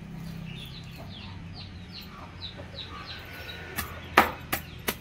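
Free-range country chickens fed finely chopped market vegetables and fruit, clucking and chirping softly and continuously at close range, with a few sharp knocks and thuds toward the end.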